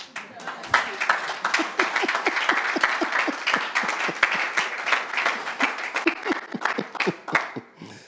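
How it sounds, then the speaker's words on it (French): A church congregation at a sermon on priorities and time management claps in a dense, steady round of applause lasting several seconds, with voices mixed in. "Si tu veux acclamer, acclame bien."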